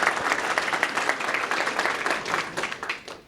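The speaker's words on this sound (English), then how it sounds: "I would like to give them one more round of applause." Applause from an audience at a FAME signing day event for a Gadsden State team, a steady wash of clapping that tapers off near the end.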